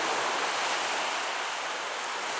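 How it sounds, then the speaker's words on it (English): Broad, steady wash of water along a cliffside shore, like small waves lapping continuously, loud and close with no voices over it. "Almost sounds like the ocean with the lapping waves."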